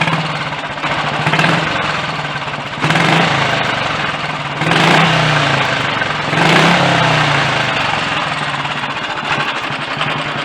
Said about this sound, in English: The engine was a little wet sumped when I started it about 10 minutes ago